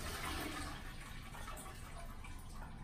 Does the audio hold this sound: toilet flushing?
yes